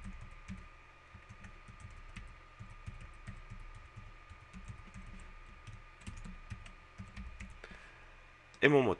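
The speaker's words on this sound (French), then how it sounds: "je me connecte en saisissant mon adresse email" Typing an email address on a computer keyboard during a login: a steady run of soft, rapid key clicks heard close up over a constant electronic hum, with a brief louder clatter near the end.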